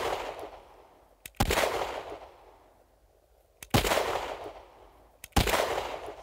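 Three loud, sharp pistol shots from a compensated handgun fired with an intentionally loose grip ring out outdoors, each spaced about two seconds apart and followed by a long decaying echo.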